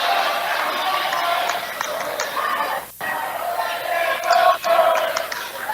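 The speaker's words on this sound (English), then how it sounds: "Crowds into it." Spectators at a basketball game keep up a continuous crowd roar with cheering swells. The din drops out for a brief moment, then comes back louder with some shouts.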